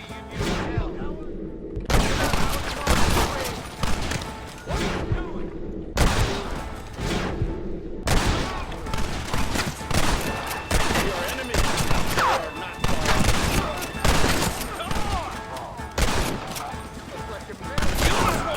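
A shootout at a gate in Red Dead Redemption, with bursts of loud rifle and pistol fire, brief lulls between volleys and shouting voices over the shooting.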